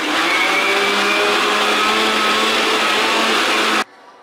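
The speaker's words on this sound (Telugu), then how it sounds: "దాన్ని మిక్సీ వేసుకుందాం." A kitchen mixer grinder whirs loudly and steadily while grinding soaked, peeled cowpeas into batter for lobia vada. It then cuts off abruptly near the end, leaving near silence.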